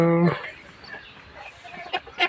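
A single loud hen cluck rings out at the start, followed by quiet rustling background noise.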